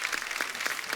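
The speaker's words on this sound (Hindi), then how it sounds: "एक बार जोरदार तालियां हो जाए" Applause from a studio audience at a comedy talk show taping, a dense wash of many hands clapping together, loud and continuous for about a second.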